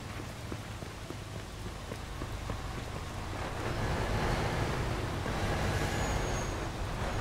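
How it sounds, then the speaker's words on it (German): Rain falls in the Mafia 2 video game, a steady, fairly faint hiss that thickens slightly partway through, with no talking. "Raus. Ab in den Regen."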